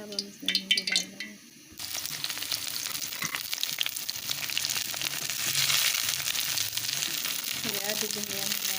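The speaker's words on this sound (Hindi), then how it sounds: "ऑयल हमारा गर्म हो गया। अब हम इसमें भिंडी डाल देंगे।" Okra dropped into hot oil bursts into a loud, steady sizzle and bubbling fry after a moment of speech and clinking, the crackle building and continuing to the end under occasional talk.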